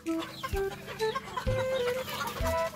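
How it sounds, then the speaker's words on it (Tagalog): Four-month-old chicks in a backyard breeder's pen cluck steadily, with a few sharper calls rising over a busy flock murmur. No one speaks. "papasilip ko po sa inyo yung ating mga inangalaga na mga sisiw"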